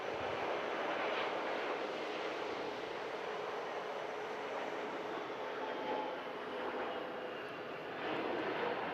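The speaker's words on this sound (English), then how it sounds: "With Turkish Airlines 321 with a special livery. Euro League livery arriving in from Istanbul." Turkish Airlines Airbus A321 in a special Euro League livery arrives at Manchester Airport from Istanbul, its engines giving a steady, loud broadband roar that holds throughout with no talk.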